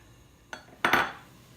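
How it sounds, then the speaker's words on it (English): A pot lid lifts off with a short metallic clank, then a spoon scrapes briefly through cooking pasta for a homemade Hamburger Helper-style dish; close, quiet, no talk. "all I'm going to do right now is just take the lid off and stir it"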